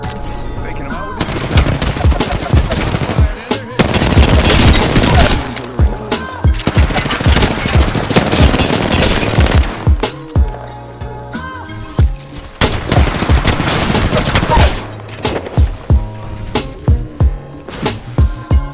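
Rapid automatic weapon fire in the video game Apex Legends, loud repeated bursts and sustained volleys with brief pauses between engagements, up close throughout.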